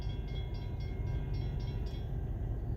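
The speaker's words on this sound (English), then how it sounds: "Well, the train is finally out of the way." A train rolls past with a steady, loud low rumble and faint rhythmic clicking on top, continuous and unbroken throughout.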